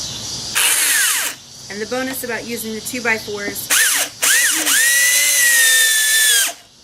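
Cordless power drill whining in reverse to back screws out of stacked 2x4 wood for a pumpkin craft, several rising and falling bursts close up, with someone talking between them.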